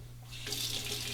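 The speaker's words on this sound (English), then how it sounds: "glide that under the cold water" Cold tap water runs over an alum block held beneath a sink faucet. A soft hiss swells into a steady, close splashing stream, with no talking.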